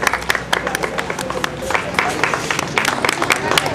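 Audience applause for children receiving certificates at a Deepawali ceremony: dense, steady clapping from a crowd throughout, with speech carrying over it.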